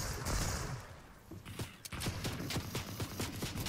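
Sniper and other gunfire in an online shooter video game, several sharp separate shots cracking out after a noisy opening, spaced irregularly at moderate loudness.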